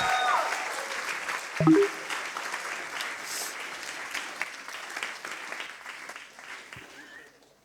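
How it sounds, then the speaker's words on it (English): An audience at a Berlin science slam applauds a speaker coming on stage, steady, full clapping with a brief tonal blip early on, fading away toward the end. "Big applause for Anushka Ghosh"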